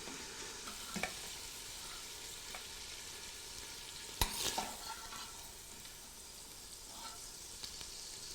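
Sausage frying in a pan, a steady quiet sizzle running throughout with occasional stirring scrapes and one sharper clatter in the middle, no talking.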